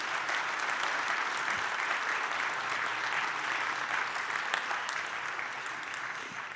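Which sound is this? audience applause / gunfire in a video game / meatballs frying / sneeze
audience applause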